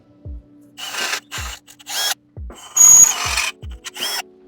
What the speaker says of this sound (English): The first step to mounting the reservoir is to drill out these two holes